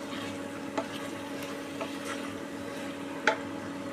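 A spoon stirs a mixed vegetable curry cooked in mustard oil in a pan, giving a few soft scrapes and knocks over a low, steady sizzle.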